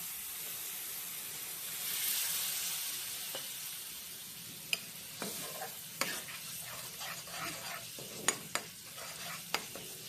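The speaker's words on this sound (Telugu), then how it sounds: "గ్రేవీ ఇలా బాయిల్ అవుతున్నప్పుడు మనం ముందుగా ఫ్రై చేసి పెట్టుకున్న వంకాయను కూడా ఇందులో వేసేసుకోవాలি" Brinjal curry gravy bubbles and hisses in a pan after water is added, a low simmering sizzle broken by several sharp utensil clicks and scrapes, close and fairly quiet.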